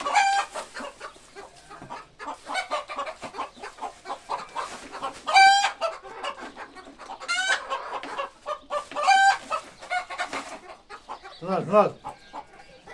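Several free-range hens cluck and squawk close by in a busy farm flock, with a rooster crowing once near the end.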